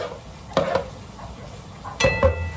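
Tomatoes go into sizzling onions in a pan, two short loud splashes of sizzle and stirring about a second and a half apart, with a low hiss between.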